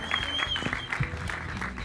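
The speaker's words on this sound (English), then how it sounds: "जोरदार तालियां हो जाए." Audience applause at a film trailer launch event, a dense steady patter of clapping from a crowd lasting under two seconds, with a faint voice underneath.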